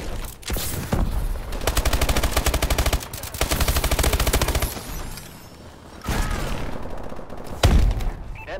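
Covering gunfire in Call of Duty Advanced Warfare: long rapid automatic bursts rattling loudly in several stretches, broken by short pauses and a heavy thump near the end.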